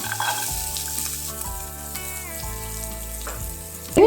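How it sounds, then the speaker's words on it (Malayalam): Onion sizzling in melted butter in a pan for carrot rice, a steady close frying crackle with stirring scrapes and a louder burst of sizzle at the end; no one speaks. "ചെറിയൊരു പീസ് ബട്ടർ ഇടുക അതിലേക്ക് കുറച്ച് സവാള ചേർക്കാം"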